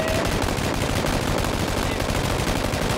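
Loud, sustained automatic gunfire in PlayerUnknown's Battlegrounds on Asian servers, with rapid shots close by that run together without a break into a dense, continuous roar.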